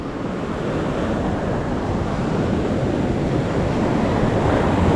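Sea waves at high tide washing along a littered shoreline by beach resort cottages, a continuous loud roar of surf mixed with wind buffeting the microphone, growing slightly stronger toward the end.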